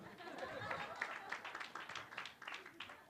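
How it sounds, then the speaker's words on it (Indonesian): Faint, scattered audience clapping at a talk, quiet and uneven with a murmur of voices mixed in, tapering off near the end. "Tepuk tangan dong."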